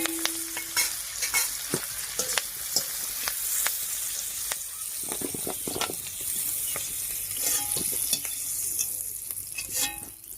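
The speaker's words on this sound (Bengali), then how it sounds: "পেঁয়াজ আর ক্যাপসিকামটা হালকা করে ভেজে নিয়েছি।" Onion and capsicum frying in a little oil in a pan, with a steady close sizzle broken by repeated scrapes and clinks of a stirring spoon, and no talking.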